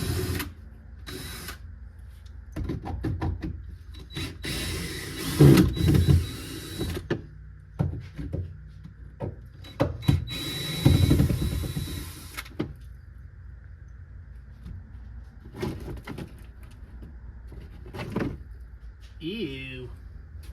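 Rusty Phillips screws are worked out of a Fox body car in several whirring, grinding bursts of a power driver, separated by quiet stretches and people talking.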